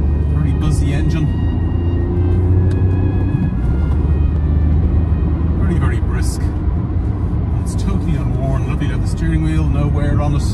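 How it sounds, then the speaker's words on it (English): A 2017 Peugeot 208 with a 1.2 engine and five-speed manual drives along, its buzzy engine a steady loud rumble under continuous talk inside the cabin. "Very buzzy engine."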